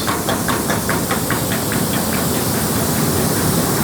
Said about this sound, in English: run through the machine that has multiple spray guns that spin around